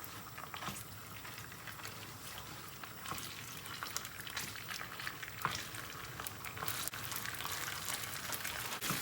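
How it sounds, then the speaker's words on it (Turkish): Tomato paste fries in a little oil in a pan, giving a faint, continuous sizzle with soft crackles and occasional stirring. "bir tatlı kaşığı salça, yavaş yavaş salçamızı yakalım."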